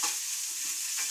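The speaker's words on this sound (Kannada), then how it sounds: "ಮಾಮೂಲಿ ಒಗ್ಗರಣೆ, ಈರುಳ್ಳಿ ಬಾಡಿಸೋದು ಅಷ್ಟೇ" Onions sauté in an oil tempering with mustard seeds, chana and urad dal, peanuts, turmeric and green chili, giving a steady sizzle broken by the soft scrape of a stirring spoon.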